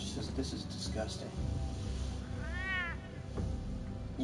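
A cat meows once in a drawn-out rising-and-falling cry in a room, partly under people talking and a video game playing in the background.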